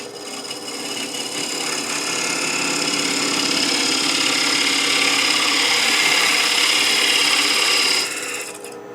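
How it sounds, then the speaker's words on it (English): A parting tool cuts across the grain of pine spinning on a wood lathe, making a loud, steady, high whirring scrape that holds for several seconds and then abruptly cuts off. "Normally I try to avoid coming in with a parting tool on cross grain work, but I think for this it'll be fine"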